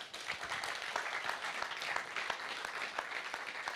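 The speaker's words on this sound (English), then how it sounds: "Je vous demande de les applaudir tous très fort." An audience at the Viva AfricArena 2022 event claps steadily and loudly, a dense, sustained applause that fills the whole moment without pause.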